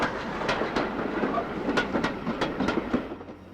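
A train runs along railway lines, its wheels giving a steady rhythm of sharp clickety-clack beats over a continuous rumble, loud and close throughout.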